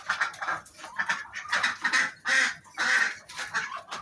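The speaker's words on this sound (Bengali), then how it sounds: "এই কবুতরটা দেখেন" Pigeons in an indoor room kept with an incubator give repeated bursty calls and wing flutters in close, uneven clusters, with no talking.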